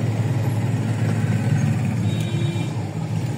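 Vehicles idling in a traffic jam on a road between Faisalabad and Lahore, a steady low engine rumble with dense background traffic noise and no speech.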